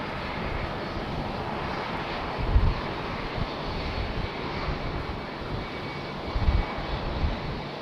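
Jet airplanes on the runway at Raleigh-Durham International Airport, giving a steady, broad engine roar heard from a distance, constant throughout with a few faint bumps and no voices.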